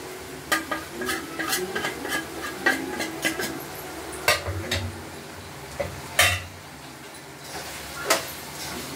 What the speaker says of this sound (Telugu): అంతా మిక్స్ చేసుకోవాలి చికెన్